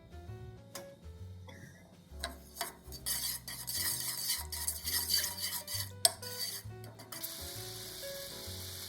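A spoon stirs soy sauce, sweet sake and sugar in a frying pan, giving close metallic scraping and clinking in an uneven rhythm, with a faint hiss building near the end.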